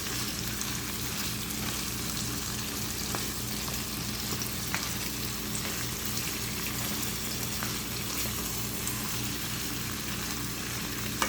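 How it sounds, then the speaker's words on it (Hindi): Potatoes fry with spices for an aloo salan, giving a dense, even sizzle that crackles steadily throughout with occasional faint stirring ticks. "इसको हमने अच्छी तरह से मसाले के साथ आलूओं को फ्राई कर लेना,"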